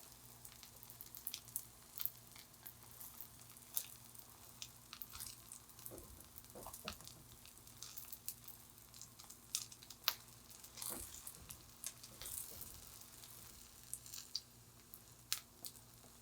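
A scallion pancake sizzles quietly in a cast iron pan, a soft steady fry with scattered crackles and occasional scraping or pressing sounds, fairly faint and without talk.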